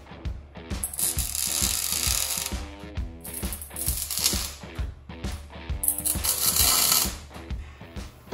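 A ratchet wrench clicks in rapid bursts while a brake caliper is removed from a Jeep TJ, loud and close, with short pauses between runs of crisp ratcheting.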